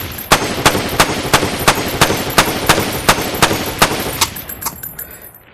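Rapid, evenly spaced shots from a weapon in a video game, about a dozen loud cracks in steady rhythm before stopping, with a faint mechanical tail afterward.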